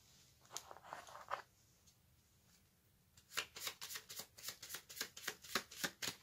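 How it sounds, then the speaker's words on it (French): Tarot cards being shuffled and drawn: a soft brief riffle early on, a quiet pause, then a quick run of crisp card flicks and slaps, close and dry, with no one talking. "Je vais tirer 6 arcanes majeures du tarot et des charms."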